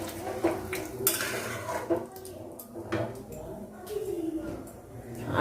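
Metal kadai being gripped and shifted with a cloth on the stove, giving a few clinks and scrapes of the pan against cutlery amid faint stirring, close and moderately loud.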